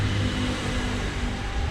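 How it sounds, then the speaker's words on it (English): The engine of a racing kart at a nature park drones steadily, with a continuous low rumble and rough buzzing hum that sounds fairly close and shows no clear rise or fall. "It's kind of a race cart."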